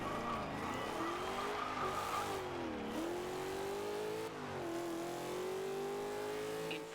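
A car engine in the racing game Forza Horizon 2 holds a steady, rising drone. The pitch sweeps and dips as it shifts through gears, with a faint tire hiss underneath, and it carries on without a break.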